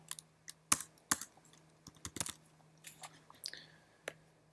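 Rapid irregular keystrokes on a computer keyboard, sharp clicks in uneven bursts with short pauses, close and fairly quiet over a low steady hum.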